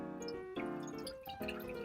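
Water, about two-thirds to three-quarters of a cup, poured into a mixing bowl holding an egg, a close, steady liquid pour whose pitch shifts in a few steps as the bowl fills.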